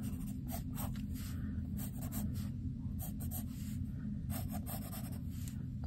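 A pencil draws a square on paper in a series of short, rhythmic scratching strokes with brief pauses between them, heard close over a low steady hum.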